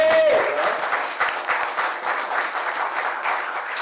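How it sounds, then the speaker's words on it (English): Audience applause welcoming Roberto Valle to a seminar at Venuez 2010, a full, steady roll of many hands clapping that continues evenly after a short tone fades at the start. "give a big warm welcome applause for Roberto Valle"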